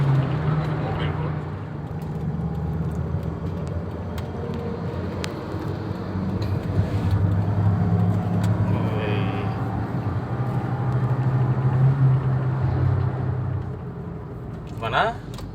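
A 2013 Toyota Rush is driven at speed in fifth gear near 100 km/h. Its engine gives a steady, loud drone with road and wind roar throughout. Voices can be heard at times over the engine.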